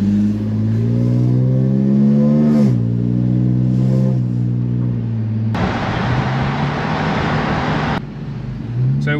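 A car engine revs and climbs steadily in pitch as the car accelerates, loud and close, then shifts into a rougher, noisier stretch with road and wind rush before the revving returns.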